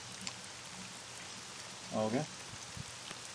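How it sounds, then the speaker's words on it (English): Steady rain hiss from the Roller Coaster Tycoon game fills the background as an even, soft wash throughout, with a brief spoken word from a man in the middle. "Oh, there is rain, so we'll probably earn from that as well."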